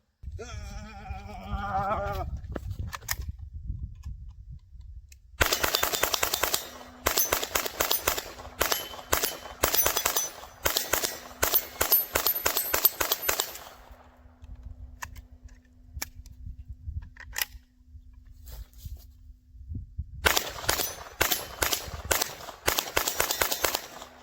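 A Smith & Wesson M&P 15-22P rimfire rifle shooting a different type of ammunition lets off quick strings of sharp, loud cracks in bursts, goes quieter in the middle, then fires another fast run of shots near the end.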